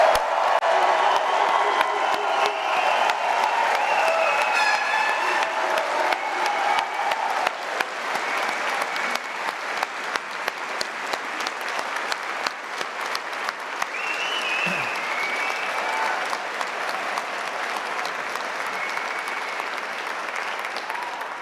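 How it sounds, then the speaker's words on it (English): A large convocation crowd applauds and cheers for the 2024 graduates at a university ceremony, a dense, steady wash of clapping with scattered whoops that holds strong for about twenty seconds and thins slightly toward the end. "join me with a massive round of applause congratulating our graduates of 2024"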